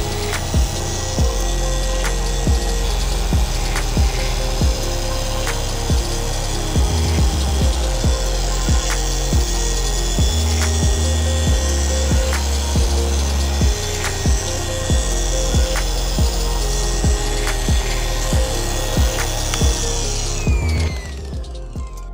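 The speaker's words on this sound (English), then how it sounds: "So now I'm gonna put the speed 3, and I'm gonna start performing the polishing process." A car paint polishing machine runs at speed 3 on a vehicle's paint, a loud, steady motor whir with rhythmic pulses held for about twenty seconds before it winds down at the end.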